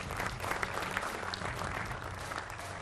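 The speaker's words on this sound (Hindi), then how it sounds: "तालियों के साथ स्वागत कीजिए।" Steady applause from a TV news debate studio audience, sustained clapping filling the whole clip at moderate loudness with no talking.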